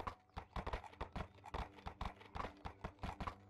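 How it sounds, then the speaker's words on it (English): Horse hooves clip-clop in a video game, a quick, uneven run of crisp clops that stays close and fairly quiet throughout, with no talk. "Look at him on his own horse."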